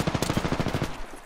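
A rapid burst of close, loud automatic gunfire from Apex Legends, about a dozen shots in under a second, then the sound tails off.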